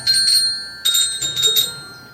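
Bells ring out in a few short bursts of bright metallic chimes, fairly close, with brief gaps between them.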